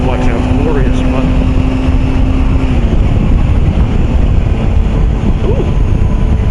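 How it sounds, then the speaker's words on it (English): A motorcycle engine is heard from the rider's position on a coastal road, a loud steady drone with a rising and falling whine, heavily buffeted by wind rush. "this bike sounds glorious"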